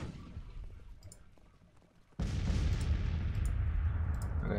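Artillery in Grand Tactician: The Civil War, a sudden loud broadband roar of cannon fire that begins partway through and holds steady after quieter rumbling and clicks.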